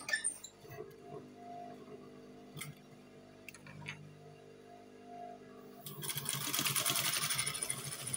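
A sewing machine stitches a half-elastic trouser waistband, quiet ticking and handling at first, then a loud, fast, steady run of stitching for the last couple of seconds, close up with no talking.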